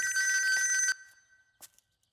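Telephone bell ringing in a farmer's home, a loud continuous electronic trill that cuts off abruptly, followed by a brief fainter echo-like burst; no talking.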